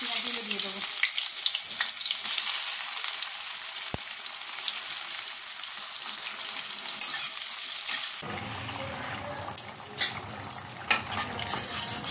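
Onions going into hot oil in a pan for a curry, with a loud steady sizzle of frying throughout and a sharp change midway as the onions hit the pan and stirring clatters.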